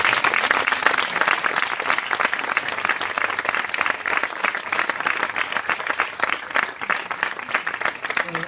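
An outdoor poetry event at Bassa Gran gets sustained, vigorous audience applause lasting over eight seconds. Dense crowd clapping holds steady, then thins slightly near the end, with no talking over it.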